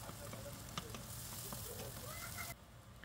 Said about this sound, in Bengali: তেল গরম হয়ে গেলে দিয়ে দেব পেঁয়াজ কুচি। পেঁয়াজ কুচি নরম হয়ে যাওয়া পর্যন্ত ভেজে নেব।